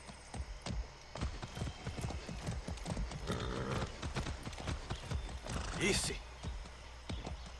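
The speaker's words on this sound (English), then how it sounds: "I haven't ridden a horse since basic training." Steady clip-clop of horse hooves at a trotting rhythm in the video game Far Cry 6, with a short whinny near the end and a brief spoken word.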